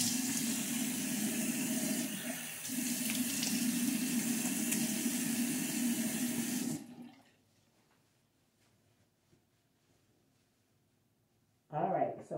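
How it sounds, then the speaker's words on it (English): Cold tap water runs steadily into a bathroom sink and splashes as it is scooped onto a face, a loud continuous rush for several seconds that cuts off, leaving near silence before a brief burst of noise returns. "I always take a shot of cold water, y'all, and splash it"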